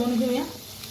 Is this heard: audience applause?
no